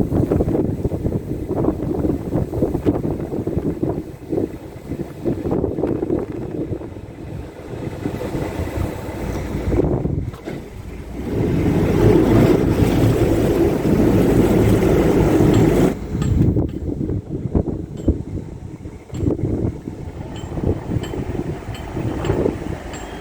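Canal boat engine bringing the boat into a lock on a windy day, a low steady rumble under heavy wind buffeting the microphone, rising louder for a stretch midway before easing back.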